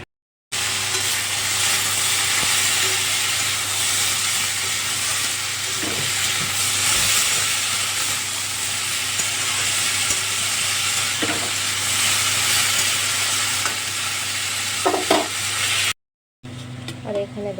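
Okra curry sizzles and steams in a pan on a stove, with a steady frying hiss and occasional scrapes of stirring, close by for most of the stretch.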